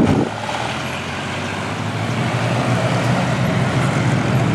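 Cars pulling away in traffic, one carrying a powerful, heavy engine; a steady, loud low rumble of engines and road noise runs throughout without a clear single pass.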